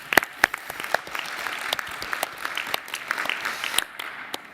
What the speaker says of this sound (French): Donc là, on peut vraiment l'applaudir.